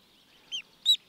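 A young duckling, handled outdoors during bird ringing, gives two or three short, high, thin peeps, close and clear over near silence.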